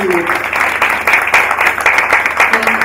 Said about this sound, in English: Please, a round of applause for Team Street B.